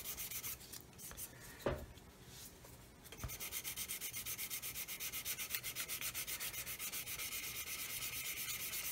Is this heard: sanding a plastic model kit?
yes